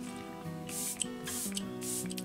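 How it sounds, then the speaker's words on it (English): A Vitamin Nectar Antioxidant Glow Water face mist is sprayed from a fine mister bottle in three quick, close hissing puffs over a low steady background hum. "I'm just going to actually spray this new fresh Vitamin Nectar Antioxidant Glow Water"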